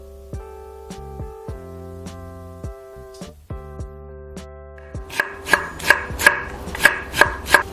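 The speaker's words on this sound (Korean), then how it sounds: "오이 한 개는 채 썰어" A melodic tune plays, then rapid, evenly spaced knife chops julienne a cucumber on a cutting board up close, growing louder and crisper toward the end.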